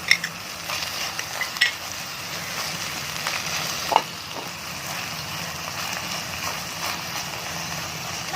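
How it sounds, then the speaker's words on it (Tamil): Ginger garlic paste frying in a tiny miniature pot with mint, stirred steadily, giving a constant close hiss of sizzling oil with occasional scraping clicks of the spoon against the pot. "அடி பிடிக்கிற வரைக்கும் நம்ம கலக்கிக்கலாம்."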